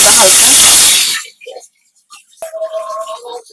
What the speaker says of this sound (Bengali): মাছটা একটু ভাজতে হবে